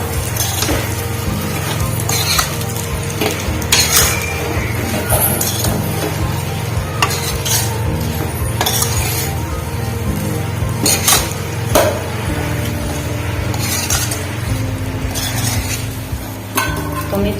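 A spoon stirs and scrapes dry potato sabji in a pan, with repeated metallic clinks and knocks against the pan over a steady low hiss, close and fairly loud.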